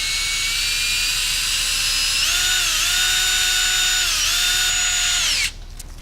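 A power tool loaded with 1000 grit sandpaper sands a car headlight lens, giving a loud, steady high-pitched whine whose pitch dips several times under pressure before cutting off near the end.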